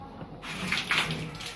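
Water sloshing and splashing inside the tank of a crop sprayer machine as it is shaken, a brief close swirl of liquid noise with a voice partly over it.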